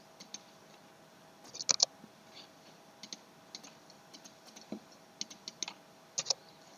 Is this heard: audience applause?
no